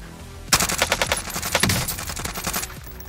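Rapid automatic gunfire from a shooter video game's 2v2 match bursts in suddenly, a dense run of loud close shots followed by scattered further rounds, no talking.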